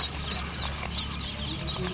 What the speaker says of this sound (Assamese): এইটো হৈছে অৰিজিনাল লোকাল পাতি হাঁহৰ পোৱালি আৰু আপোনাৰ অৰিজিনাল লোকাল মুৰ্গীৰ পোৱালি।